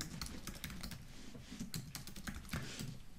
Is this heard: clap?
no